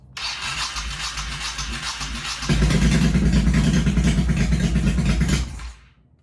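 A 1985 Honda VT1100 Shadow motorcycle engine, running for the first time in 25 years, holds a rough steady idle, then rises sharply into a louder running note before cutting off abruptly near the end.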